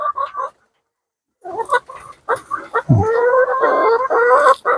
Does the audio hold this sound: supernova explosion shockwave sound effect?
no